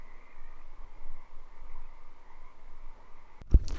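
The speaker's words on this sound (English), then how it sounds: "you can hear all of these frogs from this lake down here" Frogs croaking from a lake below, a steady faint chorus with a continuous mid-pitched trill, ending in a sudden loud close knock.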